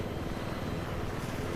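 Helicopter in the video game Battlefield 3, a steady loud rotor and engine drone holding evenly throughout with no talk over it.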